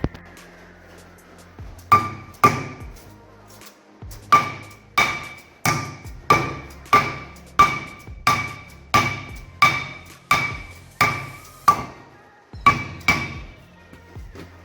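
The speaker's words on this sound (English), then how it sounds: "I'm going to convince it with a soft hammer" Repeated sharp soft-hammer taps on a brake rotor over the wheel hub of an N60 Toyota Hilux ring out in a steady rhythm, a dozen or so metallic blows with brief pauses, close and fairly loud.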